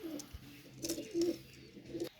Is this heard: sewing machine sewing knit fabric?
no